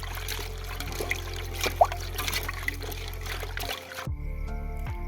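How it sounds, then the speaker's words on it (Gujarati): Tap water runs and trickles over cucumber, green chillies and small tomatoes being washed, a close splashing stream with small clatters before the flow cuts off near the end. "કાકડી, આ લીલા મરચા, આ ટમેટા, ઝીણા ટમેટા, હળદર વાળીની ધોઈ નાખશું આપણે."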